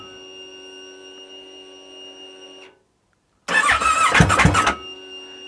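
A streetfighter motorcycle engine with no exhaust fitted cranks over in a loud, rough burst of about a second that catches but doesn't start, coming after a steady electrical hum and a brief pause.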